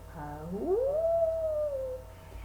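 A single recorded wolf howl, sliding up in pitch and then holding a long, clear, gently falling tone before fading, heard alone at moderate volume.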